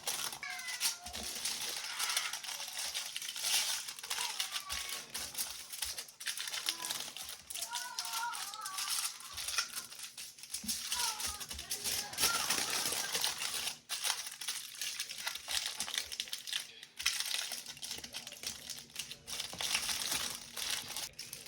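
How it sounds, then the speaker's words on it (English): Foil crinkles and rustles steadily at close range as a shawarma wrap is folded into it, with scattered crisp crunches over a busy kitchen background. "I'm just gonna be gently placing it on my foil wrap"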